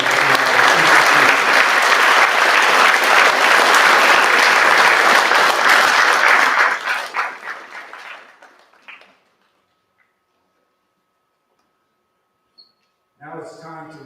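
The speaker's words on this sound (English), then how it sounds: "We have a round of applause for all those wonderful donors." A large audience at an academic awards ceremony applauds donors, the clapping loud and sustained for about seven seconds before tapering off into silence, followed by a faint brief voice near the end.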